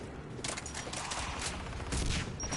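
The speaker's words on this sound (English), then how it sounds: "AA guns ahead." Rapid anti-aircraft gunfire in the sci-fi video game Mass Effect 3, a dense continuous barrage of overlapping shots with heavier bursts near the end, moderately distant and sustained.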